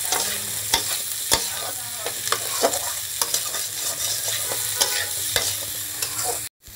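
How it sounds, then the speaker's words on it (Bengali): Chilli and onion stir-fry with vegetables in a pan for a dried fish recipe, giving a steady sizzle close by, broken by a series of sharp spatula scrapes and knocks, with no talking. "এবার আমি লঙ্কা পেঁয়াজটাকে একটু ভাজা ভাজা করে নিই সবজির সাথে।"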